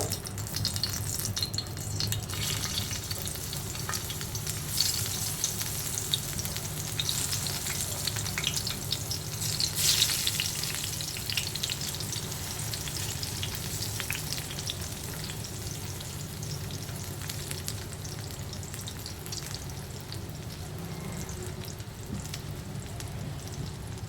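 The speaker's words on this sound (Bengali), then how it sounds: "তেলটা গরম হয়ে গেলে তারপরে আমি বেগুনগুলোকে ভেজে নিব।" Eggplant slices frying in a pan of hot oil for a Cox's Bazar hotel-style begun bhorta, giving a continuous close crackling sizzle that stays steady throughout with occasional sharper pops.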